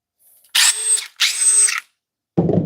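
A DeWalt subcompact cordless drill runs in two loud, close bursts of high whirring, each about half a second long with a short gap between them, followed by a brief low rumble.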